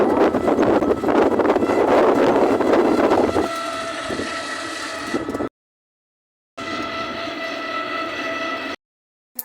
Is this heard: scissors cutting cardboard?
no